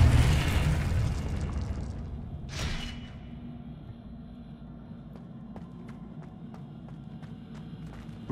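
A Confringo fire spell explodes in Hogwarts Legacy, a loud broadband burst at the start that decays into a rumbling tail, then a second sharp whoosh-blast a moment later, followed by quieter scattered clicks and impacts.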